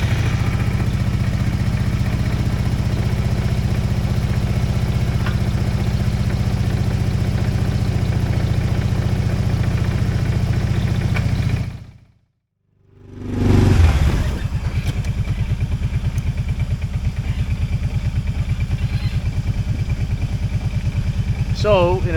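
An ATV engine with a cooling and overheating problem runs at a steady idle with a near mechanical chatter. It cuts out for about a second, then fires back up and settles into a loud, even idle again.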